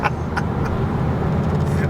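A 2019 Volkswagen Golf GTI TCR is being driven, giving a steady low engine and road rumble heard from inside the car, with a faint voice murmuring beneath it.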